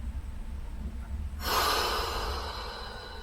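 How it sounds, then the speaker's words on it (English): Slow breathing from a person resting on their side after yoga, a soft steady airy wash that swells into a louder exhale partway through, close and alone with no talk. "taking a couple breaths here."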